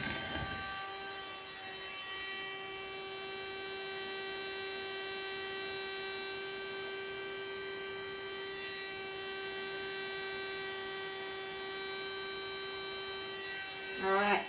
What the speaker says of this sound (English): that's my little barbecue fan blower that I got from eBay